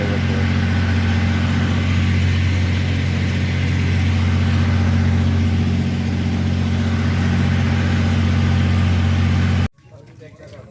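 A boat's engine drones loudly and steadily while the boat travels through the Sundarbans mangrove forest. The deep, continuous hum stops abruptly just before the end.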